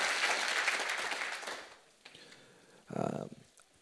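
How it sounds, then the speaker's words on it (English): An anniversary celebration audience gives a short burst of applause for a young climate leader, loud at first and then thinning out, followed by a brief voice. "give Nina Otter a big round of applause"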